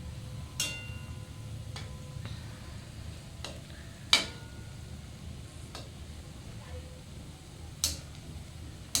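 Bhaji fritters frying in a pan of oil while being flipped, a soft steady sizzle broken by several sharp clinks and taps of a spatula against the pan.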